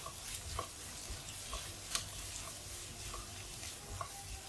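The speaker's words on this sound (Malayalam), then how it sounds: "നമുക്കിനി രണ്ട് പച്ചമുളക് ചെറുതായിട്ട് അരിഞ്ഞിട്ട് കൊടുക്കാം അതും കൂടെ ചേർത്ത് നന്നായിട്ടൊന്ന് വഴറ്റാം" Chopped onion, ginger and green chillies sauté in a pan with a soft, low sizzle and occasional scrape or tap of the spoon against the pan.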